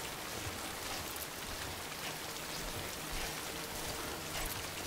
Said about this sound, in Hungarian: Jó, elállhatna ez a fantasztikus eső, mert lerohad az összes cucc a hátamról.